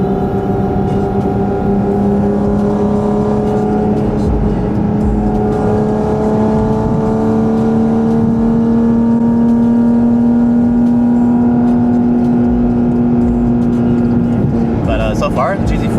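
Porsche GT4 RS running a cool-down lap, heard from inside as a steady, loud engine drone whose pitch slowly rises and then eases off, with road roar underneath.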